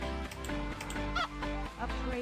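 A golden chicken in a Warcraft III custom map called Hatchling Tag lets out a few short honking, clucking fowl calls over the game's background sounds.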